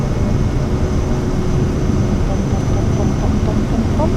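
A Cirrus Vision Jet's engine roars steadily and loudly as the aircraft takes off in Microsoft Flight Simulator 2024, a dense continuous rumble with a faint tonal whine and no clear break.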